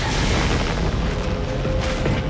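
A sticky grenade goes off in the video game Batman Arkham Origins, a loud, dense booming blast that fills the whole moment with a sustained rumbling roar and no voices.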